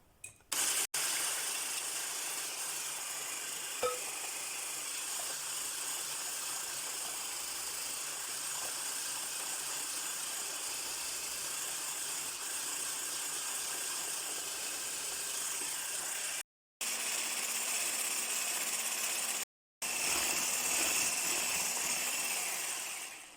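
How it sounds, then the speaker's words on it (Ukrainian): An electric mixer steadily whips seven room-temperature egg whites with sugar for a bird's milk dessert, giving a continuous even whirring hiss with two brief cutoffs near the end. "Сім білків кімнатної температури збиваємо до першої пінки, тоді частинками будемо додавати весь цукор."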